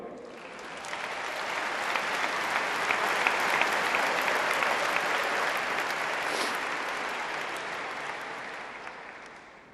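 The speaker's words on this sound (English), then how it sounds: "please clap for her" Sustained applause from a large memorial gathering honouring the late Comrade Kathy, a dense steady clatter of many hands that holds for nearly ten seconds with no talking.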